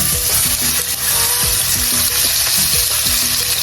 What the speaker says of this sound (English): I'm gonna sear them for a few minutes until they're nice and brown, not fully cooked yet.